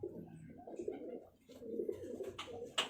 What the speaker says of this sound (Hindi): ये पानी लेना प्योर जुर्रा कबूतर है